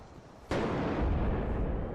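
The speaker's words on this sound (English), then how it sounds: "hear the blast wave rushing through the corridor itself" Explosion blast wave rushing down a corridor in a realistic first-person shooter game: a sudden loud, deep boom hits after a quiet lead-in and sustains as a broad rumbling roar through the end.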